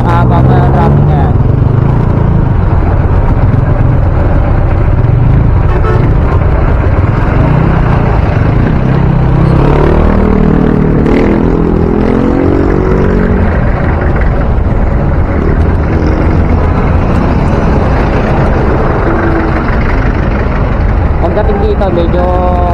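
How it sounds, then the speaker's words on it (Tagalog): Heavy road traffic around a Food Panda delivery motorbike, a loud constant blend of engine drone, passing vehicles and wind rumble, with a rider's voice talking over it. "Haba na traffic oh."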